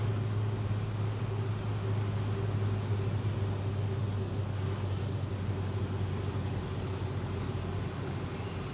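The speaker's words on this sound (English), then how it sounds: "This car has a lot of wind noise" Cabin noise inside a moving car with a sunroof, a steady broadband rush of wind over a low engine and road drone, constant and fairly faint with no talking.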